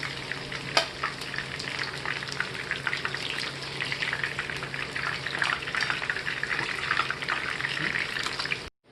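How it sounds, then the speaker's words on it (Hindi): Fish pieces fry in oil in a pan for a masala fish curry, giving a steady, dense sizzle and crackle with occasional sharper pops, close and continuous until it cuts off abruptly near the end. "दूसरे साइड से भी हमने करीब 3 मिनट इनको फ्राई होने दिया है।"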